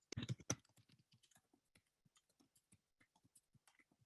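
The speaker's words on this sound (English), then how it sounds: "I'm typing, I can't watch and see order" Quiet keystrokes on a computer keyboard come in a rapid burst and then slow into sparse, irregular taps, close and without talk.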